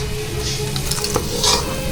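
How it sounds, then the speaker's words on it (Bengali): Onions fry in a pan during home cooking of Bengali mutton kosha, a soft sizzle under brief scraping and stirring clinks from a utensil, with no talk. "এখন হচ্ছে এই যেটা আমরা করছিলাম পেঁয়াজটা ভাজা"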